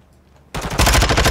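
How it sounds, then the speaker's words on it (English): Automatic gunfire in the video game DMZ erupts suddenly after a quiet moment, a loud, dense burst of rapid shots at close range. "I'm being shot from behind as well"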